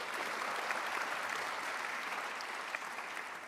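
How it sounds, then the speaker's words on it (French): An audience at an anniversary conference on organisational and human factors applauds steadily, the dense clapping sounding soft and somewhat distant throughout. "On peut les applaudir."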